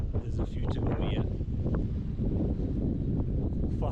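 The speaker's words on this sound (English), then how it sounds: "It's very windy. Wind's quite taxing really" Strong wind on a Yorkshire mountainside buffets the microphone with a heavy low rumble, gusting continuously and close up.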